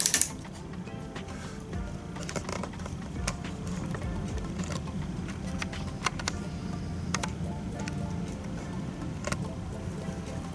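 A Transformer toy's ratcheting arm joints give a string of sharp, dry plastic clicks, some singly and some in quick bursts, close up over a faint background hum.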